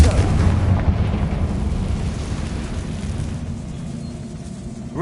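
A Confringo fire spell in Hogwarts Legacy sets off a deep, rumbling blast that fills the scene with broadband roar, fading slowly over several seconds.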